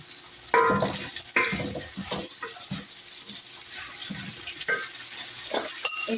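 Chicken meat frying with onions in a pan, a steady sizzle broken by several sharp stirring scrapes and clatters at irregular intervals.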